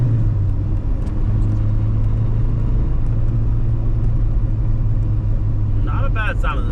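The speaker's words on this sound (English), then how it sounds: "And the car doesn't sound bad at all." A Volkswagen Jetta with new parts fitted runs its engine while driving, giving a loud, steady low rumble from inside the car, with a brief sharper sound near the end.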